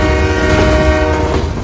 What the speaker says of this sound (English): our office is on a moving train.